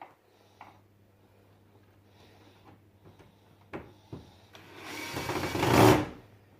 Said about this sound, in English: Press the drill down, press it down into the screwdriver so it tightens it.